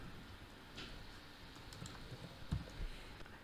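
Faint, scattered keystrokes on a computer keyboard as code is typed for a Flutter app, soft clicks in an irregular rhythm against quiet room noise, with no talking.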